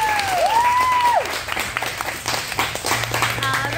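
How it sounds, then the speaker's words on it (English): Applause at a Hooters restaurant birthday celebration for a boy turning eight, a steady patter of clapping from diners filling the room, with a bright whistle-like tone gliding over it early on. "applause?"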